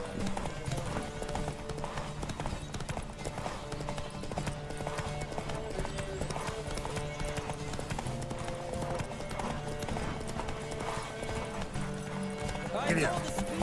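Galloping horse in a horse race in the video game The Witcher 3, Novigrad, a steady rhythmic clip-clop of hooves running throughout under game music and riders' shouts, with a brief whinny near the end.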